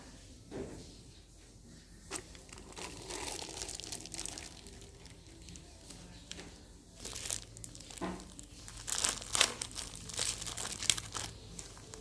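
A plastic bag of banana cake batter crinkles and rustles in soft irregular bursts close by, growing busier and louder toward the end.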